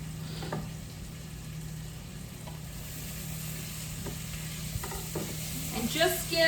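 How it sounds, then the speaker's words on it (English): Garlic frying in a pan for chicken soup gives a close, steady sizzle with a low hum beneath. A few light stirring scrapes are scattered through it, and the activity grows busier near the end. "Okay, so I'm going to get my garlic in."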